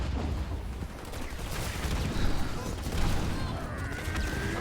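Turret gunfire in a Halo Wars 2 match, a sustained rattling barrage of rapid shots with bursts of crashing impacts, steady and loud throughout.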